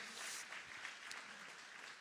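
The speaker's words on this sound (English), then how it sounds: "So can we clap for them one more time?" An audience at a Youth Day event in Cape Town claps for teachers, producing a brief, steady patter of applause that sounds soft and somewhat distant.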